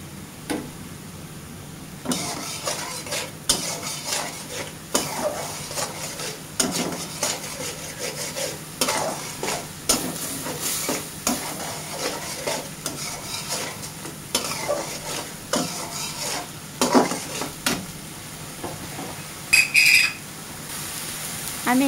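Cumin powder fries in a pan, nearby stirring with a spoon scraping and tapping the metal in irregular strokes over a low, constant sizzle, with brief clinks of utensils scattered throughout.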